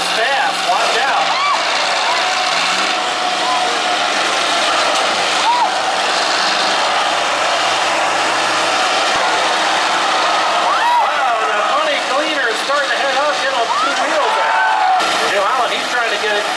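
A New Holland combine harvester in a demolition derby at The Buck Motorsports Park in Quarryville, PA roars loudly with a heavy diesel engine and air-brake hiss. The noise stays dense and continuous, with crowd and commentary voices mixed in.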